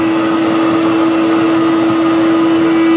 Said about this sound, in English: if I turn up the speed on the hairdryer